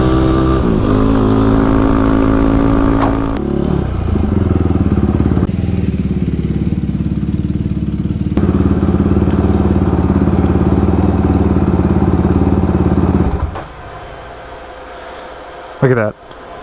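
A Yamaha YFZ ATV engine drones loud and close at a steady pitch with slight rises, then drops to a lower idle before a brief final burst, with a voice speaking partway through.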